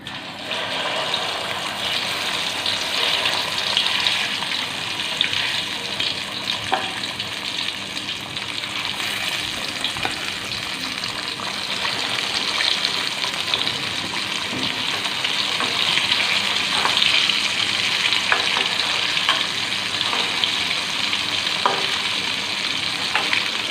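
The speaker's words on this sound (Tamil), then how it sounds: "எண்ணெய் நல்லா கொதிச்செடுத்து இப்போ வந்து நம்ம வாழைக்காயை சேர்த்துக்கலாம்." Pieces of raw plantain deep-fry in plenty of hot oil, a loud continuous bubbling sizzle with scattered pops and crackles that holds close for over twenty seconds.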